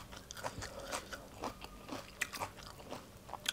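Close, crisp crunching of someone biting and chewing fermented egg salad with crunchy papaya, with irregular bites and chews over a few seconds and no talk.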